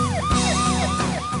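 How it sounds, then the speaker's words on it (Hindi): Wailing ambulance siren from the 108 Samajwadi ambulance service in Uttar Pradesh, loud and close, sweeping down repeatedly in a quick rhythmic cycle over the rumble of the vehicle. "जी हां, 108 समाजवादी एम्बुलेंस सेवा, उत्तर प्रदेश के मुख्यमंत्री अखिलेश यादव की"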